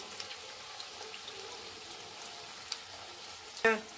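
Milkshake pakoras frying in hot oil, a soft, faint bubbling sizzle running steadily, ending with a brief sharp clink near the end.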